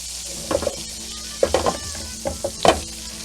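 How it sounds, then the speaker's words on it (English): Butter melting in a pan as the base for a Southern shrimp-and-grits gravy, a soft sizzle broken by several sharp crackles and pops, close and fairly quiet. "Get that butter nice and mixed up and melted."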